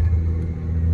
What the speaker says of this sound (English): my only complaint is that the open downpipes drone quite a bit